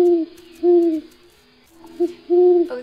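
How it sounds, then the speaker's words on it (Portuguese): Two clear owl hoots, each a short falling call, sound alone and fairly near with a quiet pause between them. "Ouço o canto da coruja te chamando pra sentar."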